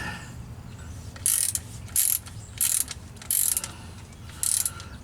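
A hand ratchet clicks in five short bursts at a steady, unhurried pace, close by, while tightening the transfer case plug on a Jeep Wrangler JK, with a low steady background hum between strokes.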